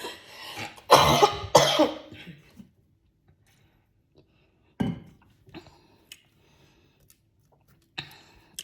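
A couple of harsh, close coughs early on, followed by quieter rustling, a short throat-clearing burst and faint ticking clicks.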